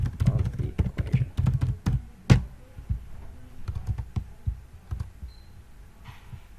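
Typing on a computer keyboard: rapid, irregular clusters of clicks with a few sharper key strikes, close and fairly clear, thinning out toward the end with no talking.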